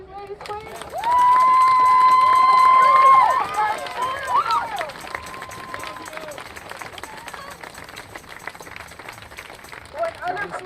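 An outdoor protest crowd in Sacramento applauds and cheers its organizers, with loud sustained whistles over clapping and shouting. Voices carry on after the cheering fades.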